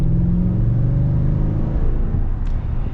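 A 2021 Toyota Tundra Platinum pickup with a 5.7 V8 accelerates, its engine roaring loud and steady close by with a deep, rising drone and no talking.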